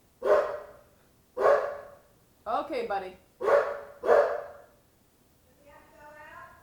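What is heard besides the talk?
dog barking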